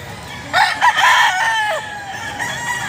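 A Kelso rooster crows loudly nearby, one long drawn-out call that rises and trails off against quiet background noise.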